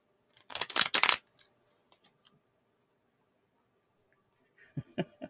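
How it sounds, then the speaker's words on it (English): Tarot cards being shuffled, a short crisp riffle of cards close by, then quiet with a few faint taps and another brief rustle at the end. "And one more shuffle for Just Jill"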